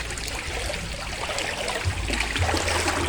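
A river in Aluginsan, Barangay Bonbon flows as a steady, close rushing and trickling of water with no voices over it.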